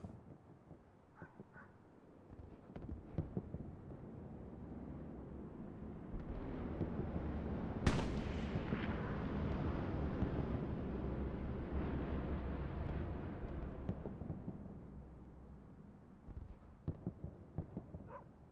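Distant artillery barrage in the World War II shooter Hell Let Loose on a foggy battlefield: a low rumbling roar swells and lingers, with a sharp crack near the middle and scattered thuds toward the end.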